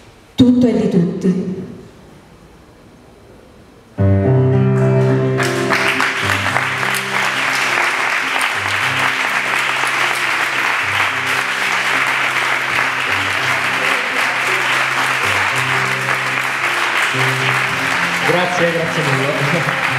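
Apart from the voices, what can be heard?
audience applause after a reading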